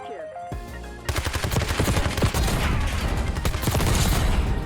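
Rapid, continuous gunfire from an ABR A1 rifle fitted with a rapid-fire attachment in Black Ops 6 crackles loud and close in dense bursts after a brief quieter opening.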